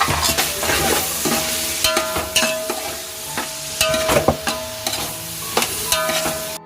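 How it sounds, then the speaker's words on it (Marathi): Onion and tomato fry in hot tempering oil for a vegetable dish, giving a steady close sizzle broken by repeated sharp scrapes and clicks of stirring, with no voices. "इकडे कांदा आणि टोमॅटो आपण घालून घेतलंय"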